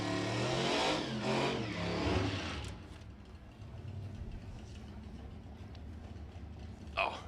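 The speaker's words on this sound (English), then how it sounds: "a 1930s Ford Coupe with a blower. Beautiful sound, beautiful looking car." A supercharged 1930s Ford Coupe drag car roars loudly at first, its blown engine revving hard for a couple of seconds, then dropping to a lower, distant rumble under crowd and track ambience.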